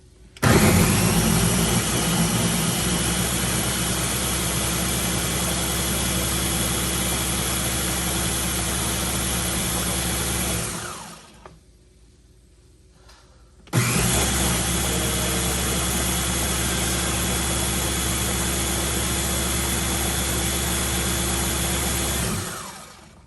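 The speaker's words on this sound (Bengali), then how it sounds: "আমি আগে ব্লেন্ড করে নিই।" An electric blender whirs loudly and steadily as it blends a banana and strawberry milkshake. It runs for about ten seconds, stops briefly, then starts again for another long run. No one speaks.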